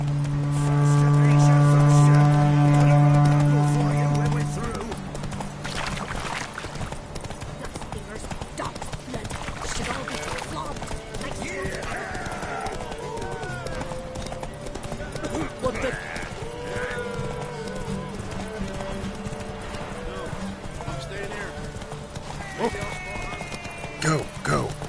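In The Witcher 3, the horse Roach gallops in a race with quick rhythmic hoofbeats under continuous game music and voices, a loud tonal blast opening the stretch.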